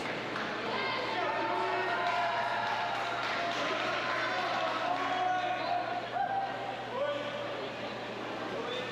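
TCNJ teammates cheer from the pool deck at an indoor college swim meet, a continuous loud wash of crowd voices and shouts that echoes off the natatorium without a break.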